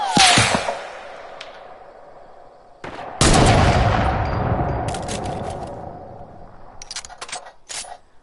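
Sniper rifle shots in a shooting video game: a sharp crack at the start, then a louder blast with a long ringing tail midway, followed by several quick clicks and mechanical snaps.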